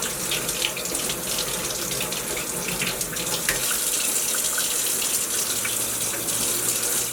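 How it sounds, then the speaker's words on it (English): Boneless skinless chicken thighs are rinsed under a running kitchen tap, a steady close rush of water splashing over the meat in the sink with slight shifts as it is handled. "So what I'll do is rinse this off."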